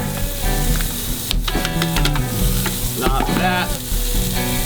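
Pancetta bacon sizzles steadily in a stock pot, a continuous loud frying crackle with brief clatters of stirring and a few words spoken over it.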